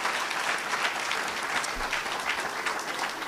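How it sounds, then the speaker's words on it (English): Audience applause for faculty advisors at an academic ceremony: steady, sustained clapping from a crowd throughout, with no break. "Please give them a round of applause."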